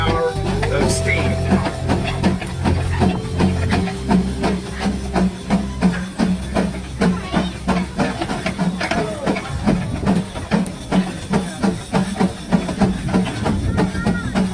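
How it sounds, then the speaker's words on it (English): A 40 horsepower JIK steam threshing traction engine runs nearby at an outdoor display, its rhythmic chuffing exhaust beating steadily with hissing steam and clanking machinery, with people talking in the background. "Crackerjack 40 horse JIK steam thrashing steam traction engine. About to put on a display of the power of steam."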